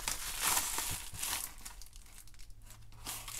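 A Panini replacement card package is torn and opened, with crinkling, crackling wrapper noise that is loudest at first and then turns to softer, scattered rustles.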